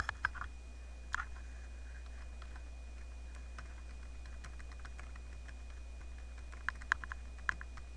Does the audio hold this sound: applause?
no